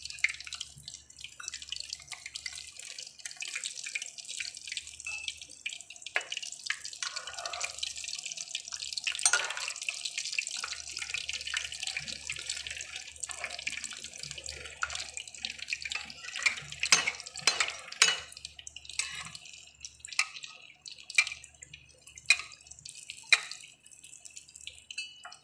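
Cordon bleu frying in oil in a pan, a steady bright sizzle with scattered pops and crackles running throughout, fairly close and alone with no talk.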